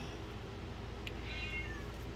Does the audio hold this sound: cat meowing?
yes